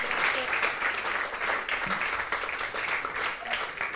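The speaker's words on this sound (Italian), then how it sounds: "Ancora un grande applauso e abbraccio per Francesca Daros" A crowd at an end-of-season women's football awards event applauds the year's prize winner with sustained, dense clapping, a voice speaking over it.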